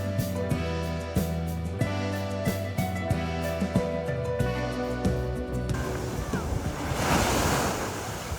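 Ocean surf rolls in steadily at a beach in Lahaina, Maui, Hawaii, with a continuous wash of waves and rushing wind noise on the microphone. A louder swell builds toward the end.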